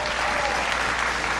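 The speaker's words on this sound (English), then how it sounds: "Give them a big round of applause." A high school audience gives a big round of applause for young people at a speech by President Obama at Durant High School, a dense and loud burst of clapping that fills the room.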